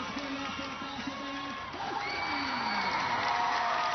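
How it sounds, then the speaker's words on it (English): Crowd on the Basha side erupts in cheers and shouts at a night high school football game, Basha versus Chandler, a broad roar building and holding loud, with whoops and children's shouts. "And the crowd erupts over here on the Basha side."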